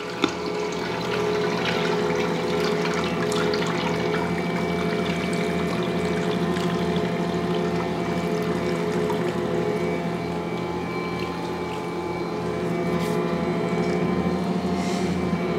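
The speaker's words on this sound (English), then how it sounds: "Turn the mixer on low speed," An Ankarsrum stand mixer runs on low speed, working white flour into a dough with honey, fat and salt, giving a steady, continuous motor whir with a churning wash of sound that holds evenly throughout.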